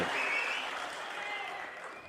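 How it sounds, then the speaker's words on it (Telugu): Audience clapping at a political gathering addressed by Chandrababu, a dense steady patter of many hands throughout, fading slightly toward the end, with a faint voice mixed in. "ఉందంటే గట్టిగా చప్పట్లు కూడా చెప్పండి"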